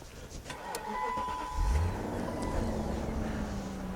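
A BMW E38 740i, off the road for years, cranks and starts on a jump starter boost: a brief whirr of cranking around mid-clip, then a steady idling engine hum, near and moderately loud.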